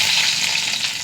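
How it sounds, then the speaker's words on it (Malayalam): Sliced shallots and mustard seeds sizzle in hot coconut oil, a steady, loud, close frying hiss with faint crackle throughout and no talk. "കടുകിട്ട് കൊടുക്കാം. 2-3 ചെറിയ ഉള്ളി വട്ടത്തിലരിഞ്ഞത്"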